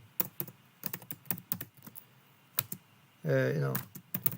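Someone types on a computer keyboard at a desk, producing a steady run of crisp, separate key clicks that pause briefly while a voice is heard.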